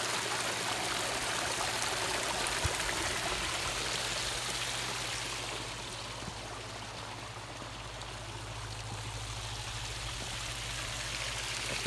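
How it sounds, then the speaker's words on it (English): Water streams and trickles steadily over boulders in a landscaped garden water feature, a continuous broad rushing wash heard alone and fairly close throughout. "This water feature is really interactive"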